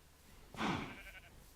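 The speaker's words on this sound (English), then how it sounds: "I'm going to take care of these sheep just in case." A single sheep bleat in a modded Minecraft world, one short wavering call lasting under a second, fairly close and clear, with no speech over it.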